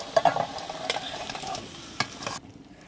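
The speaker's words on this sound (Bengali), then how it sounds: "তেলের মধ্যে দিয়ে দিচ্ছি আমি তেজপাতা আর গোটা জিরে" Bay leaves and whole cumin seeds dropped into hot oil in a karai crackle and sizzle, with sharp spits and pops over a steady frying hiss before it cuts off.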